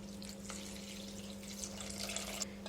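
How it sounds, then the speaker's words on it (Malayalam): Boiled water is poured into a pan of lemon pickle, giving a soft, faint trickle and splash over a steady background hum. "ഇതിലേക്ക് നമ്മൾ തിളപ്പിച്ച് വെച്ചിരിക്കുന്ന വെള്ളം"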